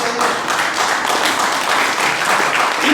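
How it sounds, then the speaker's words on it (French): A church congregation applauds and cheers together, a dense, steady wash of clapping and voices that holds at full strength for a few seconds and swells slightly toward the end. "Est-ce qu'on peut acclamer le Seigneur?"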